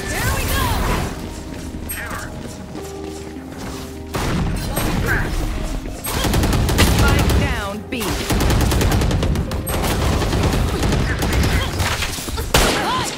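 Judge automatic shotgun blasts in the tactical shooter Valorant, loud repeated shots in uneven bursts with crashes and clatter between, mixed with game sounds.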